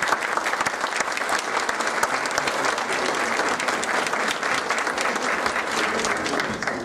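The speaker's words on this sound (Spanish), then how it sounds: "para que pida un fuerte aplauso" Strong, steady applause from a museum lecture audience fills the room without pause, many hands clapping densely and evenly for the whole stretch with no speech over it.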